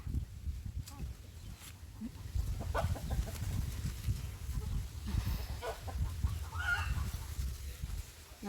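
A few short chicken clucks come and go over a steady low rumble of background noise, with no one speaking.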